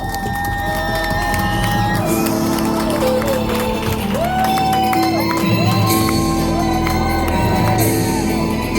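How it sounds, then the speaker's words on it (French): Wedding guests cheering, shouting and whooping with some applause, a loud continuous crowd roar heard over music throughout. "Applaudissements pour les garçons."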